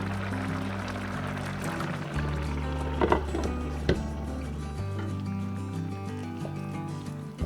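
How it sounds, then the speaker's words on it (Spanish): Water pours steadily into a pot of chicken and pasta for spaghetti, a continuous close liquid gush with a few splashy bursts near the middle, heard alone without talk. "Si ven que es necesario, le vamos a agregar un poquito más de agua."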